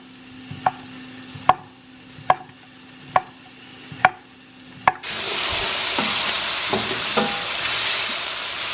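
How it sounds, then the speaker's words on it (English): Onion, bell pepper and celery sauté in a pan after a run of six evenly spaced sharp knocks, then a steady loud sizzle fills the rest with a few faint clatters of stirring. "I'm just sauteing my onion and bell pepper and celery"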